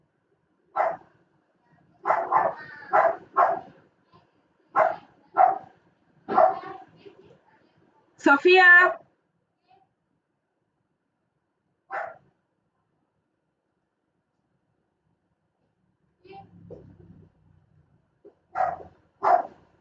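A dog barks repeatedly indoors, in short bursts with pauses, fairly close, while a woman gives an online class; a brief call of a name and a yelp interrupt the barking.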